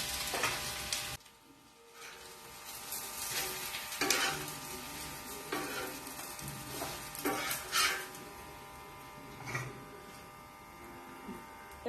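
Pesarattu, a moong dal crepe, sizzling on a hot pan as it is flipped, a steady frying hiss broken by scraping and tapping sounds from the turning, close by with a voice talking over parts of it.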